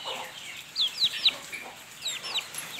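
One-month-old country chicks peep in quick, high chirps, scattered and fairly faint, with soft clucking from hens beneath them.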